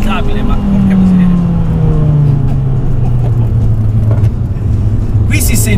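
A 305 hp Abarth 500 accelerates out of a corner on a slippery, leaf-strewn road while understeering. Its engine drones loudly and close, the pitch sliding down and then holding, with a voice talking over it.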